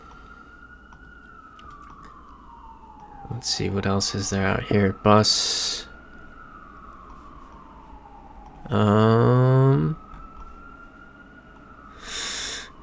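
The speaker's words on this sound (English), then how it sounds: "The sirens have started earlier in the stream than normal today." Emergency vehicle sirens outside wail and sweep steadily in the background throughout, rising and falling, while a person talks over them in short bursts.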